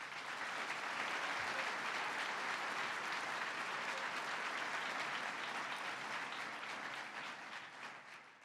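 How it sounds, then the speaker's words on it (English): An audience at a State of the State address breaks into sustained applause for the chief judge, a dense, even wall of clapping that holds steady before tapering off at the close. "Let's give her a round of applause."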